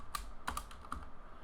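A few quick keystrokes on a computer keyboard, spaced irregularly and close by, with no talking.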